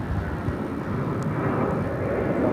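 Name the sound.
airliner taking off at Phoenix airport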